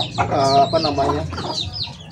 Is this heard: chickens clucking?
yes